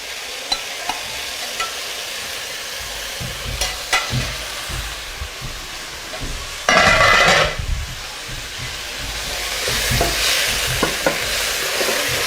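Chicken simmers in coconut sauce in a sufuria, a soft steady sizzle broken by scraping spoon strokes and a brief louder burst of frying midway, close and without speech.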